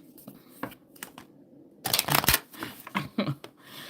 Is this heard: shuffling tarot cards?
yes